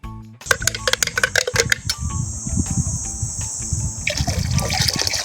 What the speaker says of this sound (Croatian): rastvor belog luka sipam u kantu sa 10 litara vode